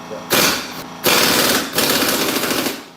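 An impact gun rattles loudly and close in three rapid hammering bursts, the longest about a second and a half, tightening the top of a Rough Country shock absorber during installation.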